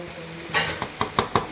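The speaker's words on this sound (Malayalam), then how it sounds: "പിന്നെ മിക്സിങ് അല്ലേ, നന്നായി ഇളക്കുക" Chicken fried rice is stirred in a pot over a light sizzle, with a quick series of about five rhythmic scraping knocks from the spoon, close and clear.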